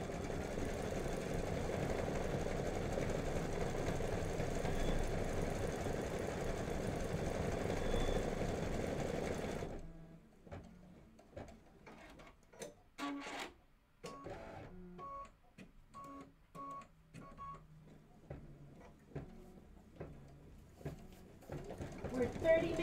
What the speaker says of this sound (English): We're 30 minutes into our 37-minute stitch out.